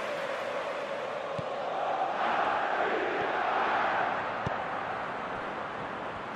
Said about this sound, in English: it's good to see that the crowd appreciate his efforts